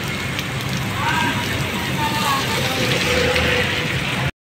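Heavy rain from a typhoon pouring down in front of Manila City Hall, a loud, dense, steady roar of water that fills the whole scene and cuts off abruptly.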